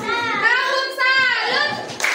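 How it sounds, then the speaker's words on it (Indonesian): Schoolchildren in a classroom perform a tepuk salut group clap, chanting together in high, sustained voices with claps woven into the rhythm, close and lively. "Kita beri tepuk salut ya buat seluruh kelompok yang sudah tampil hari ini"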